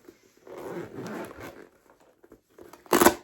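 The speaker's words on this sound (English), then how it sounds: "But then you've got these dual zippers. they'd open up." A zipper on a plastic-coated bag being drawn open in slow scratchy pulls up close, ending with a louder, quick rasping burst.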